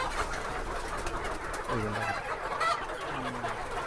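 Local chickens on a poultry farm give a few low clucks and coos against a constant hiss of farm background noise, the calls moderately close and spaced apart.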